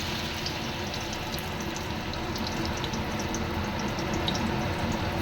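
Potato French fries frying in hot oil give a steady, dense bubbling sizzle that holds level throughout, close and continuous with no talk.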